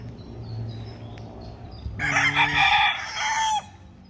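A rooster crows loudly nearby over a background of chickens clucking, the crow rising and holding for about a second and a half before cutting off.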